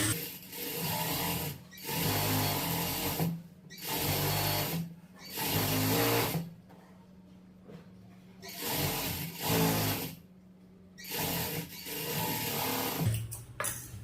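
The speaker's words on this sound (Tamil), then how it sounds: "இப்போ நான் ரஃப் தையல் போட்டே காமிச்சிடறேன்" Sewing machine running rough stitches along a blouse edge, whirring in several bursts of a second or two with short pauses between, close and steady, no talking.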